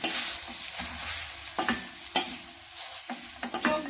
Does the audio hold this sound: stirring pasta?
yes